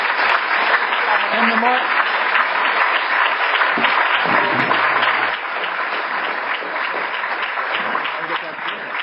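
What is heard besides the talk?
audience applause at forum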